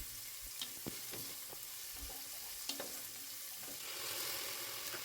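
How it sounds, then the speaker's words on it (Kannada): Onions and spices fry in a pan for a special veg basmati pulao, a soft steady sizzle under intermittent scraping as they are stirred, fairly quiet with no talk. "ಅದನ್ನು ನೀಟಾಗಿ ಫ್ರೈ ಮಾಡ್ಕೊಳ್ಳಿ."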